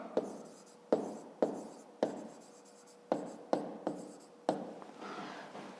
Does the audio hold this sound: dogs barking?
no